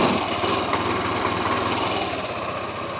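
A Yamaha Nmax V3 155 scooter engine runs close by with a steady, high buzzing drone, holding at a fairly even level for the whole stretch with only slight variation.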